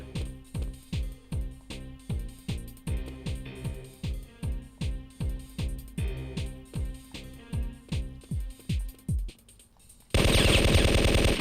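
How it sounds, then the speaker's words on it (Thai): Rapid, rhythmic machine gun fire in the video game Syphon Filter, a long steady burst of loud repeated shots that stops briefly before a louder, harsher burst of gunfire at the end, with no voices. "เอาละปืนรัวกูมาแล้ว"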